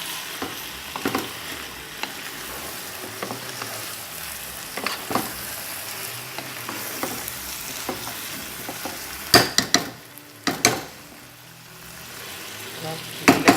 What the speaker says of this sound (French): je laisse encore mijoter pendant 5 minutes